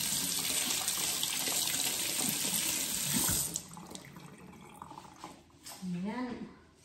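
Homegrown plums washed under a running tap, a steady loud gush of water into a sink that cuts off partway, followed by quieter handling and a voice speaking near the end.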